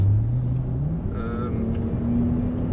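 A 3.0 L Range Rover L460 engine drones steadily with a deep, raspy exhaust note through a Quicksilver exhaust with valves open, pitch rising gradually, with a voice speaking faintly underneath.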